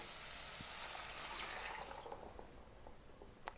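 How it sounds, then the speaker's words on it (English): Soup stock is poured into a pot of cooked onions for a pumpkin meatball soup, making a soft, continuous splashing pour that gradually eases off, with no voices. "going to pour in the soup stock"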